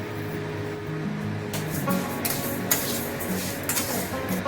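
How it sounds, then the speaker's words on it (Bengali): Moong dal frying in a kadai for a Bengali fish-head dal, giving a steady sizzling hiss broken by sharp clinks and scrapes of a utensil against the pan, with faint tonal music running underneath. "প্রথমে আমি কড়াইতে মুগ ডালটা ভেজে নেব।"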